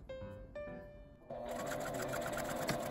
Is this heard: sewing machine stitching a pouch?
yes